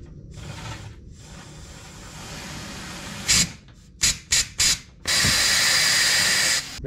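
Compressed air hisses in short and long bursts while spilled fuel is blown out of the bottom of an abandoned Argo amphibious vehicle. A steady airy rush runs first, then several quick loud blasts, then one sustained loud jet.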